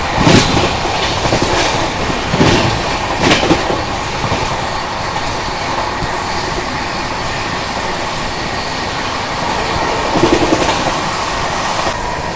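Inside a Duronto Express coach running at about 130 km/h, a continuous loud rumble and rattle fills the carriage, with rhythmic clickety-clack wheel beats over rail joints and occasional sharp knocks.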